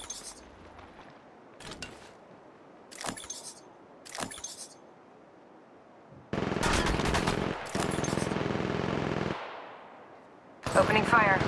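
Gunfire in the Apex Legends Mobile video game, including an RE-45: a few short separate shots early on, then long loud sustained bursts of rapid automatic fire with metallic clinks, while a voice speaks intermittently.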